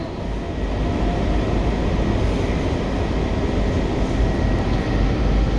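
A Washington Metro Silver Line train passes through the Dulles Airport station, producing a loud, steady, broadband rumble and rail roar that fills the whole stretch with no talk.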